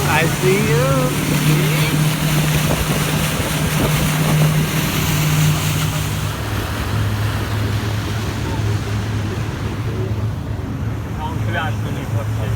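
A motorboat cruises past large waterfront homes in Orlando, Florida, its engine a loud, steady drone with wind and water rush throughout, while people talk over it at times.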